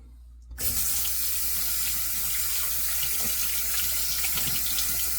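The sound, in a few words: rinsing hand under running water from a faucet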